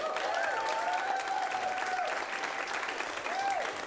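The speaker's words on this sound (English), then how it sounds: "Let's get some clapping going on right now." An audience at a holiday showdown event claps steadily to vote for a film, a sustained even wash of applause with a few whoops and cheers rising above it.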